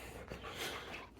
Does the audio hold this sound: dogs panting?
yes